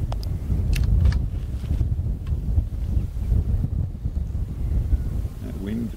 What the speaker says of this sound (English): Wind's a bit heavier.